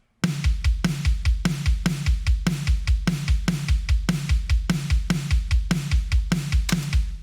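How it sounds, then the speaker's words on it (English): Layered kick and snare drum samples play together in a steady, punchy pattern, deep booming kicks alternating with sharp bright snare hits, loud and close with no other instruments or voices. "So when we put the kick and the snare together,"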